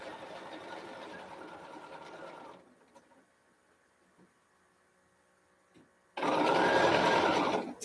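A sewing machine runs a fast stitching burst along a scrub cap seam, goes quiet with a few faint clicks, then starts a second loud, steady run of stitching close to the microphone.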